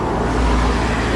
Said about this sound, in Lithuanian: daug mašinų važiuoja